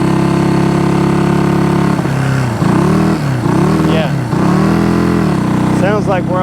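A Honda CB200T motorcycle engine idles loud and close while firing on only the left cylinder, a steady uneven drone that dips and swells through a few throttle blips, with people talking over it.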